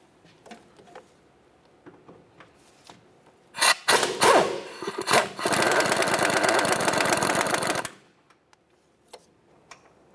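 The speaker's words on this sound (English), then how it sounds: "You're going to find 2 15mm headed bolts that hold it to the subframe. Remove the pair." A powered ratchet or impact tool spins out 15 mm control arm bolts from the subframe of a 2005-2010 Chevrolet Cobalt: a loud four-second buzzing whir preceded by short bursts, with quiet clicks and ticks before and after.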